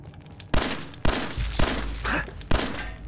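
Sharp gunshots from the video game Fallout 4 crack out about four times at irregular intervals over a dense background of game noise.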